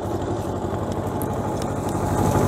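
Small tractor engine driving a Manavoğlu sliding rotovator through its shaft, a steady close, loud running drone with a dense low rumble and no pauses.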